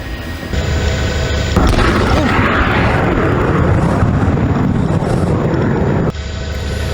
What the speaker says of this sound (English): Live Copter 3 captured this moment of that huge explosion almost 24 hours ago to the minute.